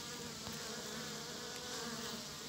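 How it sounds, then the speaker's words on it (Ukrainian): Honeybee drones fly at a Buckfast queen-mating apiary on an island in the Dnipro River, making a dense, continuous buzz close to the microphone with no voices. "Такі от трутні тут."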